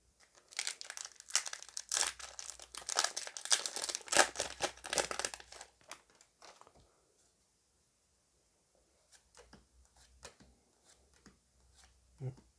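Yu-Gi-Oh! booster pack foil wrappers crinkling and tearing as they are opened, close and busy for several seconds, then sparse rustles of cards; a voice speaks quietly.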